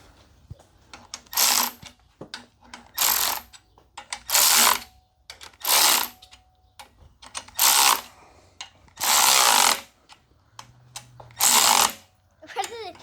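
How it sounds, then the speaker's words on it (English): Wrench tightening a bolt on a Yamaha Moto 4 YFM80 ATV during final assembly: repeated bursts of ratcheting, each lasting about a second, separated by short pauses, close by, with a voice faintly in between. "You gotta use the wrench and like pull it too."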